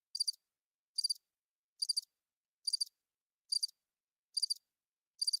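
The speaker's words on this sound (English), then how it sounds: "I heard crickets" Crickets chirp in short, bright, pulsing bursts, seven evenly spaced trills roughly a second apart with total silence between them.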